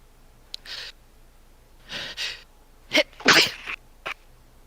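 A sneeze close to the mic, with a quick breathy gasp and soft breaths before the loud burst, then a short sniff, all with no talking.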